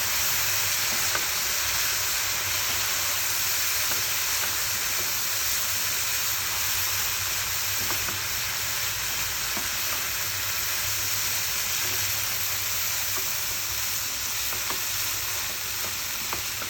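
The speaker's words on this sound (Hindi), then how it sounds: "ये चूड़ा डालेंगे। और इसको मिक्स कर लेंगे।" Flattened rice (chuda) and peas sizzle steadily in a hot pan while being stirred. The hiss is continuous and fairly close, with no one talking.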